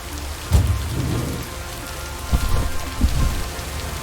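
Rain and a thunderstorm in the video game Lake: a steady downpour hisses throughout while low rumbling thunder swells near the start and returns in short heavy bursts later.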